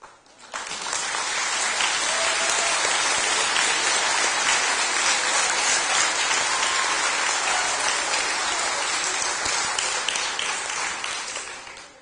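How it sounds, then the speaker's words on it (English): An audience at a high school class night applauds graduating seniors, loud and sustained clapping from a large crowd that starts abruptly, holds steady for about ten seconds, then tapers off. "For one final round of applause"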